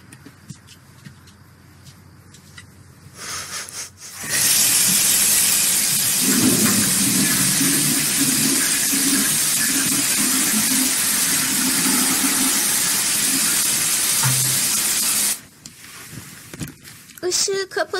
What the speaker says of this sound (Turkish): sifonu çek. İki kere çek.